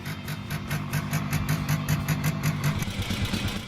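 A Simson S51 motorcycle engine runs steadily at a rough idle, its low throbbing pulse continuous and fairly close, with no talking.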